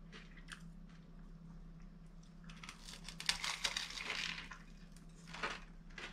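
Someone bites and chews a crunchy sourdough roll with melted cheese and fish on a remote surf beach, close crackling crunches that build and fade over a quiet steady hum.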